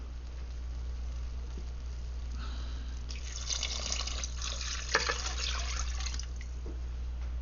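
Water spilling and splashing into a small puddle while a vegetable beef stew is being made, a steady trickle with a brief louder splatter midway, alone and close.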